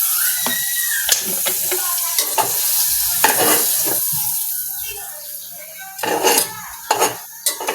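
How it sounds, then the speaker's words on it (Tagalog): Oil heats in a kawali for sautéing chicken pastil, crackling and sizzling up close while a utensil scrapes and clinks against the pan in irregular bursts. "Tayo ito'y magbigisa na"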